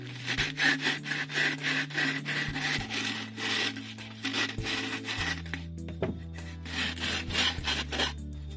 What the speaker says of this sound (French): Un petit coup de ponçage léger dessus, juste pour nettoyer la pièce.